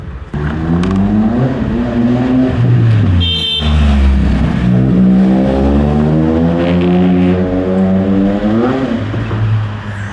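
A loud Triumph Speed Triple 1200 RS motorcycle with a Zard aftermarket exhaust revs up and down repeatedly nearby, pitch sweeping higher then falling back in throaty bursts.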